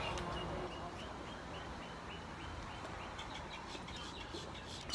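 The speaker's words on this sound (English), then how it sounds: "Gotta love the sound of the birds." Spring birds chirping and calling faintly in the distance, short repeated tweets scattered over a quiet outdoor background.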